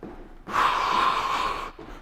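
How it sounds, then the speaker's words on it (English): One long, deep breath during a beginner kettlebell-style workout with a skipping rope, a steady airy rush lasting over a second, close and fairly soft, with quieter breathing before and after. "Nice big breaths in. Nice big breaths out."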